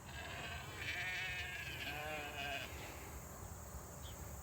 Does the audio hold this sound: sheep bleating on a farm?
yes